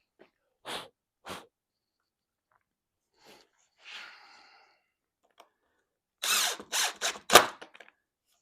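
Power drill driving screws into a dresser top, running them down snug: short separate bursts of drill whir with quiet gaps between them, ending in a louder cluster of brief bursts near the end.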